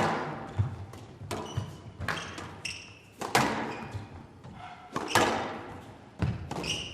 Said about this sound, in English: Really hear them thumping the ball.